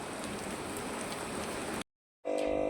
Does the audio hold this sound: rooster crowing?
no